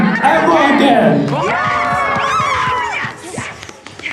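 A crowd cheers and shouts together in a film scene, loud massed voices rising with whoops and yells, some rising squeals, and scattered footsteps.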